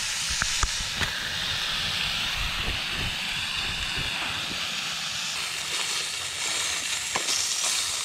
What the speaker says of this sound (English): Let that simmer for a while.